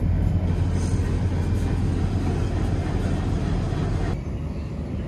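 The Maitree Express train runs near Darshana station, giving a loud continuous rumble and rolling drone from close by that drops slightly near the end.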